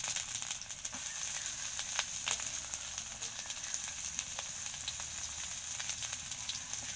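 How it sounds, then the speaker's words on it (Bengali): Chopped onions and chillies fry in hot oil over a clay stove, giving a steady, close sizzle with scattered crackles and pops throughout. "এখন পেঁয়াজ কুচি আর মরিচগুলো দিয়ে দেওয়া হয়েছে।"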